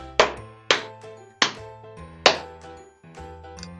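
Body percussion of hands slapping the thighs: about five crisp, evenly spaced slaps over a steady musical backing, each one loud and close.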